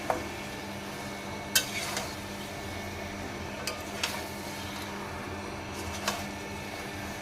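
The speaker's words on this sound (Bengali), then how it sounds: "এবার এটাকে খুব ভালো করে নাড়াচাড়া করে নেবো" Mutton kosha being stirred in a pan, a quiet background of low sizzling broken by a few sharp scrapes and clinks of the spoon against the pan at irregular intervals.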